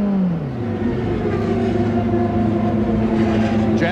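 A 1996 CART race car engine at the Michigan race, its pitch dropping briefly then holding a steady, loud whirring drone with strong harmonic tones, as if passing or running on track.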